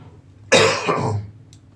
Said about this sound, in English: Sorry, I'm gonna cough.